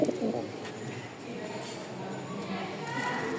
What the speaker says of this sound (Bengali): লাস্ট আমাদের একটা কবুতর দেখাবো